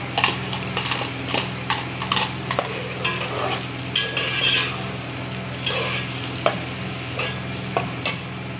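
Ground garlic, ginger and green chilies fry in ghee, giving a steady sizzle under repeated scrapes and clinks as a spoon stirs them around the pan.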